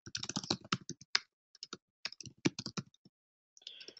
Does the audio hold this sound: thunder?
no